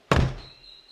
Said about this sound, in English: We're going to pop this door open and slam it.